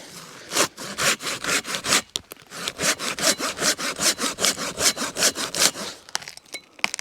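A Silky hand saw cuts through wood at a forest camp, giving a loud, steady run of rhythmic push-pull rasping strokes with a brief pause partway through, heard alone with no talk.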